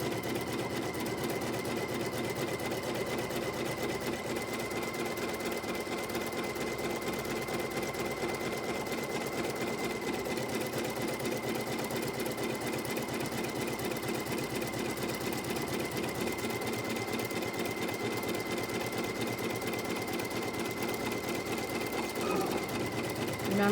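A sewing machine stitching down quilt batting runs in a steady, fast mechanical chatter, close and continuous for the whole stretch with no talk over it.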